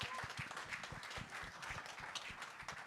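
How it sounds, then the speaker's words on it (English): An audience at a conference session on ending TB in Africa gives a round of applause, a dense, steady patter of many hands clapping at moderate distance, with no voices over it. "let's give them a round of applause"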